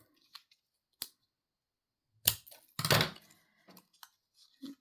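Scissors trimming the protruding ends off paper tabs on a small 3 x 4 notebook, heard as a few separate crisp snips and one longer crunchy cut, close and isolated in a quiet room.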